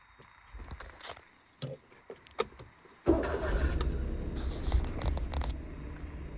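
A car engine starts on a hill-driving lesson: after a few faint clicks and rustles, the motor catches abruptly and settles into a steady, fairly loud idle that runs on to the end.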